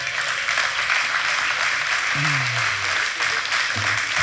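Steady audience applause fills a hall at a comedy talk after a father is called up as a volunteer, with a brief voice rising above the clapping midway.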